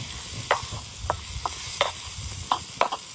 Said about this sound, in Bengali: এখন আমি পরিষ্কার করে ধুয়ে রাখা চিংড়িগুলো দিয়ে দিলাম। এরপর আমি ভালো করে একটু কষিয়ে নিব।